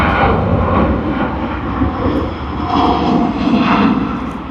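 An airplane's engines roar steadily from a runway at Sydney Airport during a departure, a loud, continuous, broad rumble with no voices heard.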